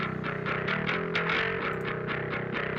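Bass guitar run through distortion and amp simulation plays a quick repeated riff of punchy plucked notes, gritty and buzzy, upfront and alone.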